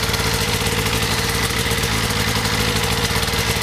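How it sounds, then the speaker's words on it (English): A Polaris liquid-cooled snowmobile engine idles steadily and loudly up close, a dense continuous rumble with a fast even pulse and no pauses. "We'll leave that Polaris running"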